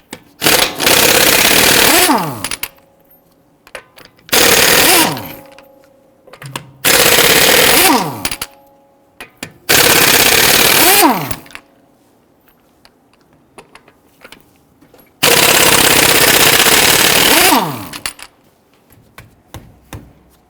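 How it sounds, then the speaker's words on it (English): An impact wrench with a 22mm socket hammers off the lug nuts of a 2011-2023 Dodge Charger 3.6L V6 in five loud rattling bursts of two to three seconds, each winding down, with quiet pauses between. "Using a 22mm socket, we're going to get it loosened and remove our lug nuts."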